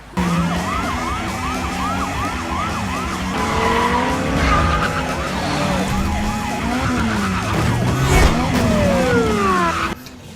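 Wailing police sirens sweep up and down over car engines and tire skids as a car flees the police, running red lights and smashing through barriers; loud, busy and continuous, ending abruptly.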